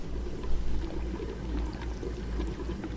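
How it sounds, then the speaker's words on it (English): Water level draining away in LittleBigPlanet 3 edit mode, a steady low rushing, pouring wash with faint trickling sparkle on top, continuous and moderately quiet throughout. "and the water level goes down"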